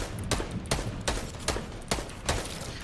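Gunfire in Fortnite Battle Royale during a squad fight: a string of about seven evenly spaced shots rings out at a steady rhythm over a low, continuous background, moderately quiet overall.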